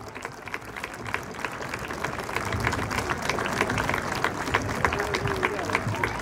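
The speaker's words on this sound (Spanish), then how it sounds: "muy fuerte aplauso para ellos" Crowd at a bakery celebration honouring bakers with wood-fired ovens, a sustained burst of applause and clapping of moderate loudness that swells slightly, with some voices mixed in.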